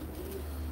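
Pigeons kept as Turkish show birds cooing, a short low soft coo close by against faint background noise.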